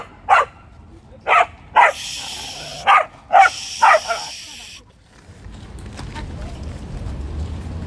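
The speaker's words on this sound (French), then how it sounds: "Bon, on est au parc à chiens, Maria." Dogs at a dog park bark in a series of sharp, separate barks with pauses between them, fairly close, followed by quieter outdoor background noise.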